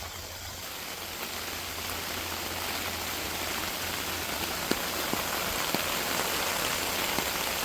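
Rain pouring off a metal roof and draining through newly fitted gutter screens, a dense steady hiss of falling water with scattered sharper drips and taps, no voices.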